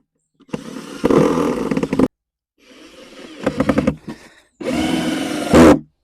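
Three bursts of a power drill driving screws into a wooden block inside a hedgehog house, whirring and straining up in pitch, close and loud with short pauses between.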